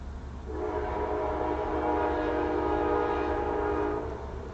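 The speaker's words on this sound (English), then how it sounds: "so occasionally there will be a train that goes by" A train passes about a block and a half away, a rising rumble and rolling drone that swells, holds steady for several seconds, then eases off. A horn tone is mixed in, with no talking.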